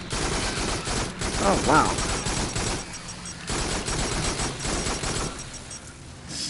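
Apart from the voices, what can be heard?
gunfire in the Farpoint video game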